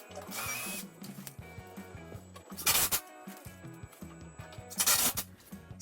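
A power drill drives screws into the shelves of a built-in wooden bookcase, three per shelf, whirring in short bursts with pauses between, close and moderately loud, with no talking.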